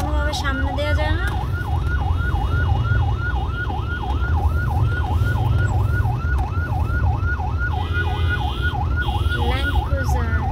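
An ambulance siren wails in a fast, steady rising-and-falling cycle, loud and close as if right behind the vehicle, over constant road rumble with a few faint horn blips.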